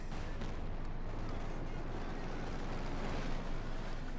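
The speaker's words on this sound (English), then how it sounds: "There you go, direct hit from the field gun on the Panzer Force" In Company of Heroes 2, a field gun fires on a Panther tank amid a dense, continuous battle rumble. Dull booms blend into one heavy wall of noise, swelling slightly near the end.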